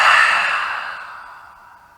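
A single forceful open-mouthed exhalation during yoga breathing, loud and close, a breathy rush that fades over about two seconds.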